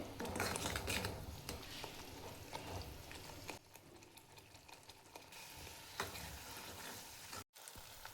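Spices roasting in oil in a pan for traditional Maharashtrian dubuk vadi, a steady close sizzle with stirring scrapes and clinks throughout, briefly cutting out near the end.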